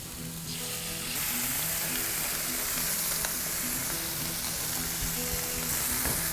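A steak sears in a hot oiled pan with pepper, giving a loud, steady crackling sizzle that swells after the first second and holds without a break, close up and with no talking.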